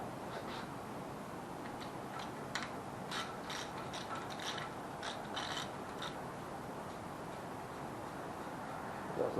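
A ratchet wrench clicks in quick bursts while loosening the 14 mm dipstick bolt on a 305 small-block Chevy engine during teardown, close and fairly quiet over a low hiss.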